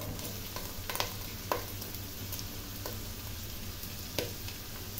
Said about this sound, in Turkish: Ve kıymayla beraber soğanları da pembeleşene kadar kavuruyoruz.